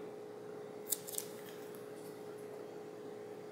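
A few quick, crisp scissor snips cut a paper piece to size for 3-D paper art, clustered in a brief burst near the middle of an otherwise quiet stretch.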